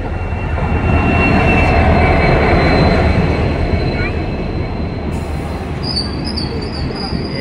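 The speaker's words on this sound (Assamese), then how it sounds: "ইয়াত ট্ৰেইন আহি গ'ল আমি উঠিম" A crowded train rumbles loudly and steadily close by at a Guwahati station during the Ambubachi Mela, wheels grinding on the rails with faint high squeals as it rolls in.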